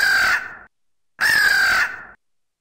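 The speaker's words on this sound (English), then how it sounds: "A crow is a black bird with glossy feather, a heavy beak, and a harsh and loud voice." A crow gives two loud, harsh caws, each about a second long and separated by a short silence, close and clear with nothing else behind them.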